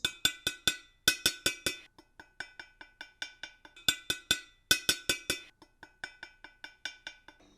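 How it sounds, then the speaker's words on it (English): Metal scissors tap a bowl in quick rhythmic runs of bright, ringing clinks, some hits louder and some softer, each with a short metallic ring. "I'm gonna take my metal scissors and clink this."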